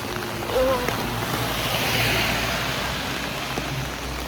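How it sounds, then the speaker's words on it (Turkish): Steady rain hisses down outdoors in Korea, with gusts of wind buffeting the microphone and a low rumble underneath. "İşte şu an son yağmurunu görüyorsunuz."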